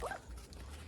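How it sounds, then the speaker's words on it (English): A small puppy on a road in Thailand gives a brief, high whimpering yip, close by and fairly faint, followed by low outdoor background noise. "There's a lovely little dog, isn't there?"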